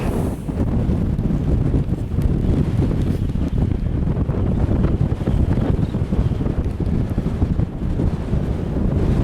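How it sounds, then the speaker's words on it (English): Strong wind buffets the microphone in a steady, loud roar with constant low rumbling gusts and no pauses throughout, on a rural road near Vallebrón, Fuerteventura. "it is pretty windy today"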